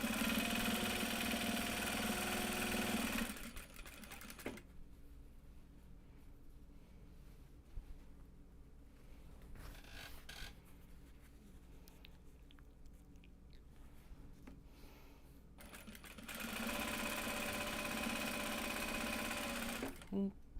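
Domestic sewing machine stitching Japanese fabric drawstring bags, running in loud, steady bursts at the start and end with a quieter pause between, where people talk softly.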